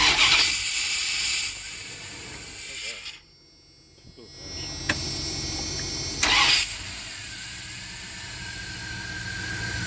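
A 1997 Dodge B3500 van engine cranks and catches after the fuel system is primed, with two bursts of starter and engine noise separated by a brief quiet gap, recorded close by with a steady hum underneath.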